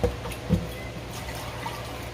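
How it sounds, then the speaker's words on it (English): Water trickles and runs steadily while raw pork ribs for barbecue are rinsed, a low continuous flow with a couple of soft splashes near the start. "Give it one more quick rinse."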